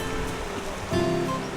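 Sea waves washing and breaking on a shore, a dense, loud roar of surf that swells slightly partway through, close by, with no talking.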